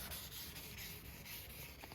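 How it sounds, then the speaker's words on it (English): Soft, steady rubbing and scratching of 800-grit wet sandpaper worked back and forth over a Colnago Conic SLX bicycle frame, close and quiet. "800 grit wet paper, give it a dip and get sanding"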